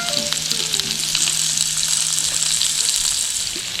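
Onions frying in a pan at a lakeside campsite, a loud, continuous close sizzle with light stirring, no voices.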